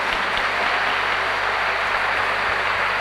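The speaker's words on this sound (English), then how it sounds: "Please give them a big round of applause." An audience at an apprenticeship graduation ceremony applauds graduates, a dense, even wash of clapping sustained throughout.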